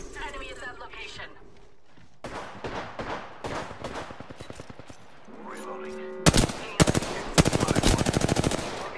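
Rapid automatic gunfire bursts in an Apex Legends match, coming in quick repeated volleys that grow louder toward the end, with in-game voice callouts and music-like tones under the shots.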